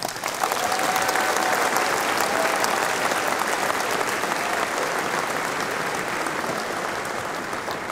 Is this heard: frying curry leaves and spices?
no